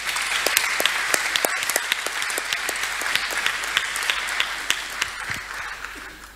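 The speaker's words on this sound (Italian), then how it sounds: "il sindaco Andrea Zanusso, un applauso anche per lui, grazie" An audience at a book presentation gives steady, sustained applause, a dense crackle of many hands clapping together at moderate loudness with no talking over it.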